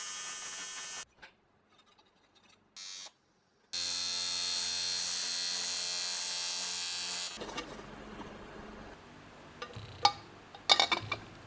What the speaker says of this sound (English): I decided to just weld a plate onto the end of it so the two can be screwed together